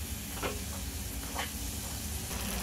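Chopped onion sautés in a pan for poha, a steady close sizzle with a few soft stirring scrapes at intervals and no talk.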